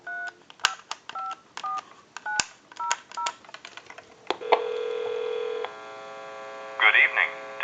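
A telephone number is dialed as a quick series of touch-tone beeps, followed by a steady ringback tone, then a faint voice begins answering.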